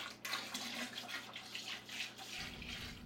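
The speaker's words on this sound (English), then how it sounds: "add 2 gallons of cold water to the sanitized empty fermenter" Cold water pours steadily into an empty sanitized plastic home-brewing fermenter, a continuous splashing rush at close range, its tone deepening slightly near the end.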